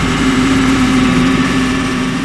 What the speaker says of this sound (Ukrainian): Синій трактор витягнув стовбур на халявку.